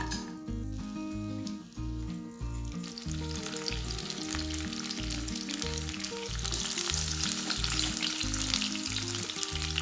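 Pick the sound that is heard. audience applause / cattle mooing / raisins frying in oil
raisins frying in oil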